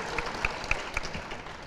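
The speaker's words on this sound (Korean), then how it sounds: "이럴 때도 여러분 박수 안 하실 거예요?" A church assembly audience in Korea claps lightly, a few scattered, rhythmic hand claps at steady intervals rather than full applause, fairly quiet in the room.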